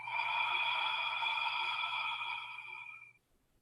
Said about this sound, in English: breathing in through your nose and exhaling through the back of your throat